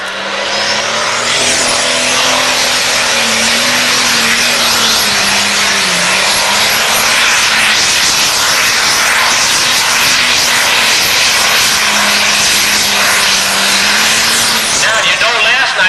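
A pro stock pulling tractor engine, an International 1066, roars steadily at full throttle for the whole stretch, its pitch rising and dipping slightly as it labors, with no letup, at an NTPA Grand National tractor pull.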